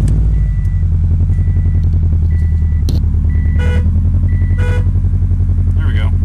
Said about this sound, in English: I'm gonna turn the car on real quick.